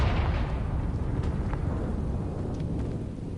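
A Confringo fire spell blasts in Hogwarts Legacy, a heavy booming burst with a deep rumbling tail that slowly fades over a few seconds.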